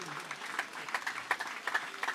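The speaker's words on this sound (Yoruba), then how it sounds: "Bàbá mi alàgbà Olúgbénga Arówólò, ẹ jẹ́ ká fún ọ ní àtẹ́wọ́." Audience clapping at a cooperative society's end-of-year anniversary celebration, a steady patter of scattered hand claps with no one speaking.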